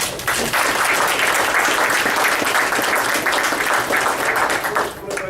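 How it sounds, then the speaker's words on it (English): A room full of people at a Keller Williams Realty West meeting gives a round of applause, a loud, continuous wash of many hands clapping together for about five seconds before dropping off. "Let's give them a round of applause."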